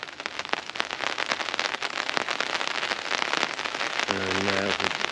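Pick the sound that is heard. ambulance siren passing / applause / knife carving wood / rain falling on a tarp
rain falling on a tarp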